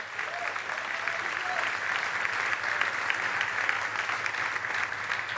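A church congregation applauding during a celebration service, dense continuous clapping from a large crowd held at a steady level for several seconds, with faint voices mixed into the roar.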